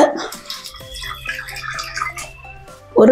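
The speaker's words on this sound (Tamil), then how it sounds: "ஒரு கிளாஸ் தண்ணி விட்டுக்கோ" A glass of water is poured into vegetable kurma inside a pressure cooker, giving a short, gurgling pour with trickling and dripping that ends in a louder clatter.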